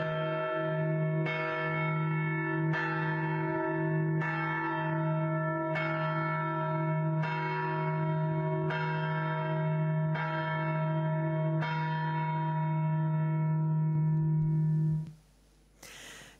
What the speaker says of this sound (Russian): Символическим жестом в знак дружбы между россиянами и белорусами стал перезвон колокола